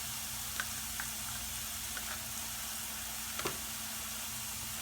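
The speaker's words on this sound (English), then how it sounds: "We'll cook it till the raw smell of ginger goes and it fries nicely with the onion paste." Ginger paste frying with onion paste in a pan for prawn malai curry, giving a soft steady sizzle with a few faint clicks and knocks, no talking.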